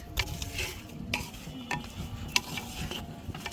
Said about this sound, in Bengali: এবং এর ভিতরে আমরা পেঁয়াজ মরিচ সরিষার তেল সব কিছু দিয়ে মাখায় নিচ্ছি।